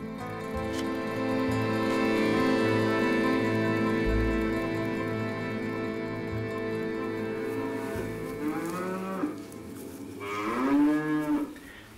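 A cow moos in one long, low, sustained bellow close by, followed by a couple of shorter wavering moos near the end.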